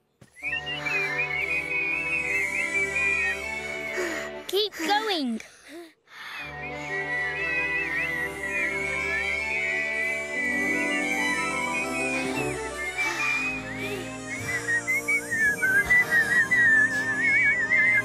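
Melodic whistling, mostly steady with a brief break partway, accompanied by music; a voice briefly speaks near the end.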